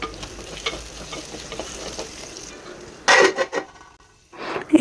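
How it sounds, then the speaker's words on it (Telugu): Drumsticks fry with onions and green chillies in a clay pot, giving a low, steady sizzle with stirring, then a couple of louder, sharper bursts of scraping or clattering near the end. "ఉల్లిపాయలు పచ్చిమిర్చి వేగాక ములక్కాయలు వేసుకొని వేయించుకోవాలి"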